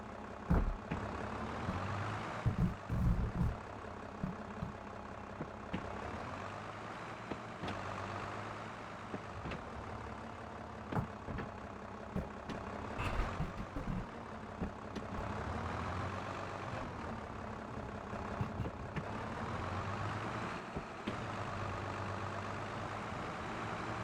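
A mower engine in Farming Simulator 22 runs as a steady mid-level drone for the whole stretch, with occasional clunks and bursts of revving layered on top.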